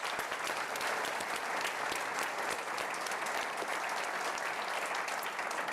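A lecture-hall audience gives sustained applause for a panel of speakers, dense and even clapping from a large crowd that holds at a steady level for several seconds.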